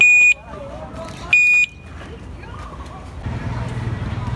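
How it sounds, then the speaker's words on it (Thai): An electric three-seat three-wheeler sounds its reversing warning: two loud, sharp electronic beeps about a second apart over engine hum and background voices. "มีสัญญาณเสียงถอยหลัง"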